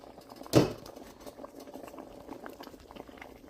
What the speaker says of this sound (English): so let's check on the rice. I hear it boiling.